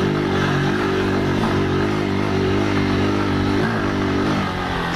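A motorcycle engine revs hard and steadily under load climbing a steep road, loud and close, with a droning, slightly wavering pitch as it climbs.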